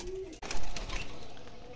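Fancy pigeon chicks, one grey and one brown, cooing softly up close in a short burst after a brief knock, with no talk over it.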